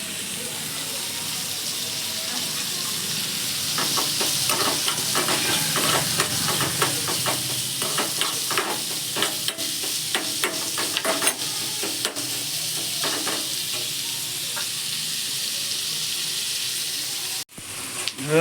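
Onions and chillies sizzle in hot oil with ginger and garlic in a home kitchen, a steady close frying hiss broken by scraping stirs and a brief pause near the end, with no talk over it.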